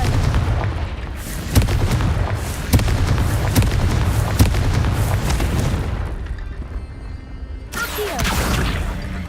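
Confringo fire-blast spells in Hogwarts Legacy burst in a string of heavy booms a second or two apart over a dense rumbling bed, followed by a quieter lull and a final swell.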